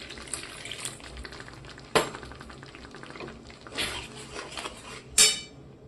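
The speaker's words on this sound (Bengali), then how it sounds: "আমি এখানে অল্প জল দিয়ে আর একটু কষে নেব।" Cashew, pistachio and yogurt paste sautéed with a little water in a wok for a white potato curry, sizzling hiss with scraping spatula strokes and sharp metallic clanks against the pan, close by.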